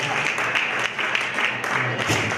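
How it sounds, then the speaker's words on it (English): An audience at a tribute event applauding Michael Witherick, president of Audubon Park: sustained, fairly loud clapping from many hands, continuous throughout the moment with a faint voice underneath. "can we give Michael Witherick, president of Audubon Park, a big round of applause"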